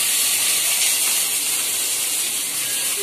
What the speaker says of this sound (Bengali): ঢেঁড়স দিয়ে দেবো তেলে